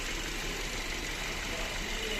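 A 2017 Kia Ceed with a 1.6 GDI engine and automatic gearbox idles with a steady, even hum and faint mechanical ticking, heard close and continuous with no variation.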